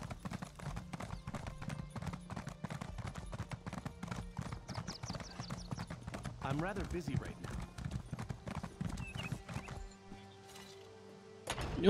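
Galloping horse hooves from The Elder Scrolls Online make a fast, continuous clip-clop with an occasional whinny. A person talks over it throughout, and the hoofbeats stop near the end.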